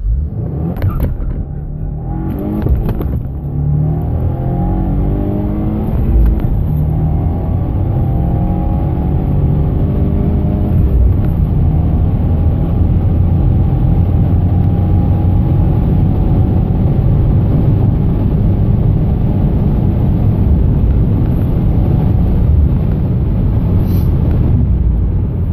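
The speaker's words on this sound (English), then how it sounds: "I'm gonna try to reach 60 miles an hour in second gear." A 2015 Subaru WRX with a 6-speed manual launches from a stop toward 60 mph, its engine roaring loud and close as revs climb steadily through the gears, one shift break near the start, then a sustained strained drone.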